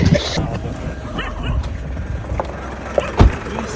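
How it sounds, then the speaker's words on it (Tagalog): A dog barks and yips outdoors, a few short barks scattered over a noisy background with people talking, and one louder, closer bark near the end. "Ay, may aso."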